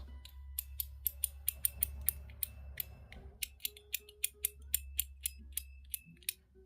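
Titanium TIVIVA 3-level mechanical slider being worked: a rapid run of sharp, close metallic clicks, about twenty in quick uneven succession, crisp and distinct over a faint low background hum.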